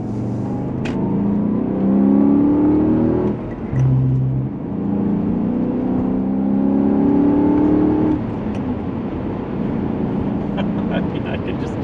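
Engine note of a BMW E39 M5 wagon with the S62 engine, 2003 540i Touring M Sport with six-speed manual, rising and falling through gear changes while circling a roundabout, heard from the cabin with someone talking over it.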